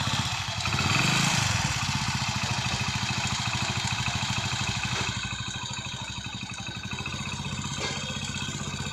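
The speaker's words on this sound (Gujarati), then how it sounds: "આપણે બાઇકને પહેલાં ચાલુ કરી લઈ." A motorcycle engine idles steadily before an engine flush to clear carbon deposits, its even rapid mechanical putter close by, briefly louder near the start and then settling into a constant idle, no talking.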